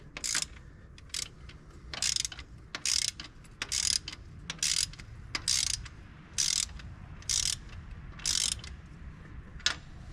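A ratchet torque wrench running down diesel injector bolts set to 35 foot-pounds during farm machinery repairs, giving bursts of rapid clicking ratchet strokes in a steady repeating rhythm over a low background rumble.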